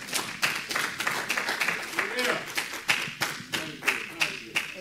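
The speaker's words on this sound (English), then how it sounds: "Clap your hands for the Lord" A church congregation claps their hands in praise, with rhythmic, roughly regular claps in a steady beat, fairly close and moderately loud, with faint voices beneath.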